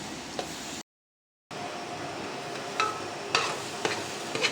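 Minced meat mixture stirred in a hot pan, a steady close hiss of sizzling with soft scraping strokes and a few sharper utensil knocks, broken by a brief moment of silence.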